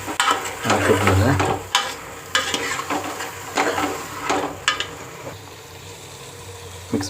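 A spoon stirs a sizzling tempering for lentil soup (bele saaru) in a pan, with loud repeated scraping strokes over a steady frying crackle and no voices.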